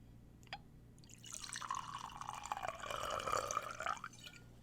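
Four Roses Small Batch Kentucky straight bourbon pouring into a glass, a steady splashing, gurgling stream building over a few seconds and then cutting off, close and fairly quiet over faint background hum.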